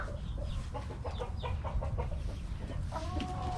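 Backyard hens cluck and chatter continuously at close range as a busy flock, with no talking.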